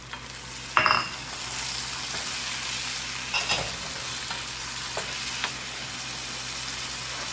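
Tomatoes are added to a frying pan of chicken devil and stirred, a steady soft sizzle with a few clinks and scrapes of the spoon against the pan, with no voices.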